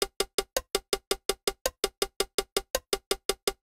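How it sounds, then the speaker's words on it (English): A steady click track ticking out a fast sextuplet pattern, sixteenth-note triplets, as a rapid, even run of sharp, cowbell-like metronome clicks played alone. "So if we were gonna hear that with a click,"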